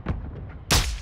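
A single loud, sharp gunshot cracks out near the end in Warzone 2, preceded by a few soft game sounds and followed by a brief booming tail.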